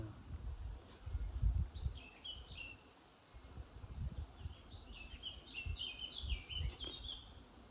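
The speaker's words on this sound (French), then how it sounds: "Il y a un oiseau qui chante" A small bird sings short chirping phrases outdoors in an old graveyard, fairly distant and soft, over low rumbling background noise.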